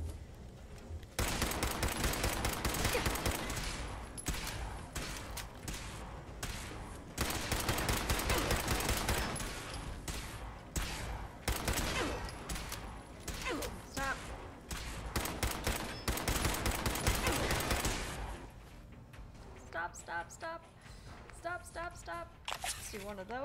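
Gunfire in Fallout 4, dense rapid bursts of automatic fire and shots that run almost continuously at close range, loud and sustained before thinning out near the end.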